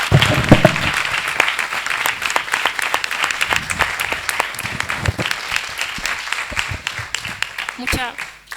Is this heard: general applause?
yes